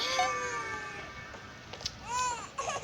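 A video game cat meows a few times in short, whiny bursts with a slightly electronic tone, mixed over a steady synthetic background hum.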